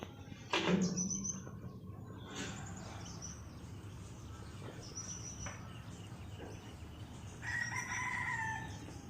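Decoy fighting roosters crow in a cold, overcast rural setting, a few drawn-out calls at a distance over a steady hiss of insects and outdoor ambience, with no one talking.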